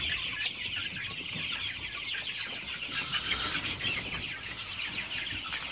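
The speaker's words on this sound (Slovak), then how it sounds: "Toto je krmenie kuriatok." Many chicks chirp and cluck constantly in a dense, high twittering chorus while being fed, fairly close and loud, with no talk.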